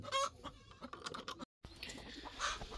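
A village hen that has not yet laid eggs clucks and calls in a run of close, irregular squawking notes, with a brief dropout in the middle and more calling afterward.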